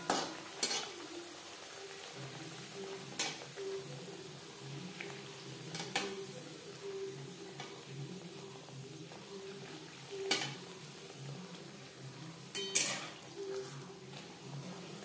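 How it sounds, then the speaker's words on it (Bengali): Gentle, quiet bubbling of kochuri (stuffed dough) frying in hot oil over medium flame, with a few clinks of a utensil against the pan now and then. "কচুরি ভাজবো মিডিয়াম ফ্লেমে"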